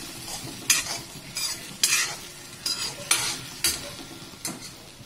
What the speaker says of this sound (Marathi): आता ही मी सगळी दोडकी टाकून घेतली आहे, ती आता आपण छान परतून घेऊया, मिक्स करून घेऊया सगळी।